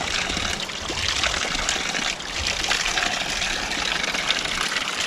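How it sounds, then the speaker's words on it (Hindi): Cold water from the mountains near Malana village, Kasol, rushes and gurgles continuously over rocks, a close, steady flowing stream with no voices. "वो पहाड़ों से बहता हुआ ठंडा पानी।"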